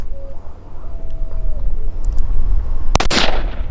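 A single loud gunshot at a 3-gun shooting competition cracks sharply near the end, standing out over steady outdoor background noise.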